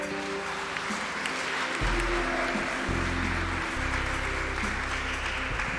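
Church congregation applauding during an evening worship service, a steady wash of clapping under sustained organ or keyboard chords that change pitch several times.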